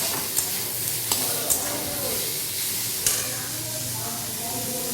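Drumstick stems and potato pieces frying in oil in a pan, a steady close sizzle and hiss with a few sharp clinks of stirring.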